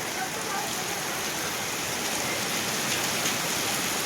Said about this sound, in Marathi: आम्ही जस्ट खाली आलो आणि खूप पाऊस चालू झाला.